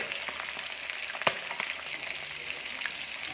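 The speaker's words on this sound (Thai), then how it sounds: "เสียงจวดจวดเลยครับ เสียงน้ำมันครับ" Shrimp fry in hot oil for a home-style Thai stir-fry with dried chilies, a soft, continuous sizzle with scattered pops and one sharper spatter, fairly quiet and close.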